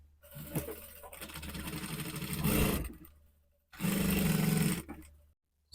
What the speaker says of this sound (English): Rotate the fabric and sew to the other side.